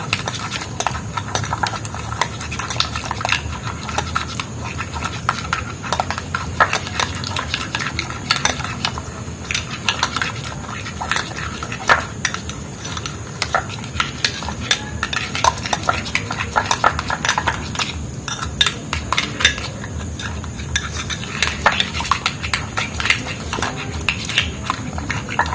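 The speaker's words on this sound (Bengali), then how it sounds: "গরম জলের মধ্যে দুধটা ভালো করে গুলে নিচ্ছি।" A spoon clinks and scrapes steadily against a container as powdered milk is stirred into hot water, a continuous run of small, close taps and swirls.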